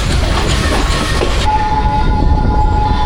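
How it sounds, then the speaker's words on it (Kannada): A train runs parallel to the seashore near Colombo, Sri Lanka, heading toward Galle, with a loud steady rumble and rolling wheel noise throughout and a sustained horn-like tone entering partway and holding to the end. "ಗೋಲ್ವರ್ಗೂ ರೈಲು ಹಿಂಗೆ ಸಮುದ್ರದ ಪಕ್ಕದಲ್ಲೇ ಹೋಗುತ್ತೆ ಪ್ಯಾರಲಲ್ ಆಗಿ"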